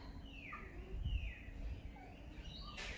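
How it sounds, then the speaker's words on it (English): Birds chirp and sing softly in the open air, a few thin calls rising over quiet outdoor background noise. "listen to the birds"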